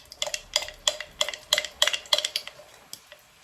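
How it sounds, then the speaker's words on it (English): Spoon stirring food in a cooking pot: a dozen or so close, bright clinks and scrapes against the pot in a quick, fairly regular rhythm, heard alone. "Give that a long stir."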